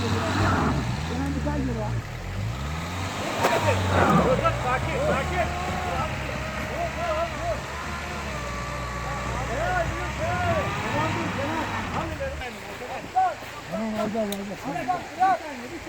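A car stuck in mud strains forward, its engine droning and revving steadily for most of the stretch before dropping away, while several voices shout encouragement over it.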